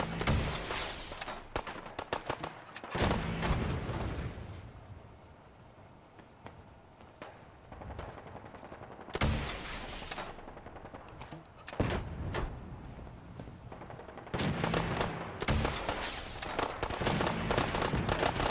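Gunfire crackles through a firefight in Sim Settlements 2, rapid bursts of shots coming in several loud clusters separated by quieter stretches, with no talking.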